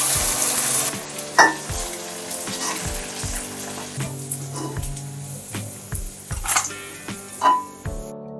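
Naran kavum, Sri Lankan sweets, fry in hot oil with a loud, close, bubbling sizzle, broken by several clinks and scrapes as they are turned and lifted.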